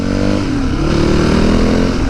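Motorcycle on knobbly off-road tyres riding along a road on a commute, engine droning steadily and loud close by, with wind rush and tyre roar throughout and no voices.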